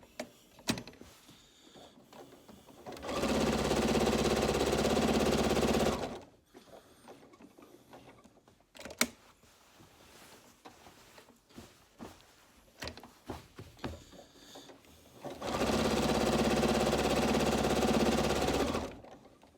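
A sewing machine stitches quilting through pieced fabric in two sustained, steady runs of a few seconds each, separated by quieter handling noises, clicks and fabric shuffling.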